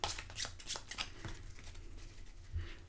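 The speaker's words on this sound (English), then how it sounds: "Then we're going to shuffle the strategy deck" A strategy deck of game cards being shuffled by hand, quick close riffling and soft flicks in several short bursts, fairly quiet, with no talking.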